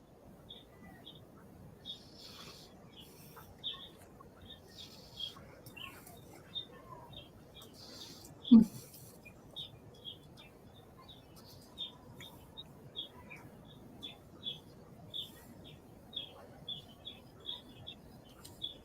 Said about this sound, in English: I can hear some birds chirruping away